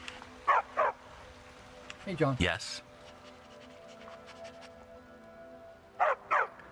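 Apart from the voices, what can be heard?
dog barking in the video game Skyrim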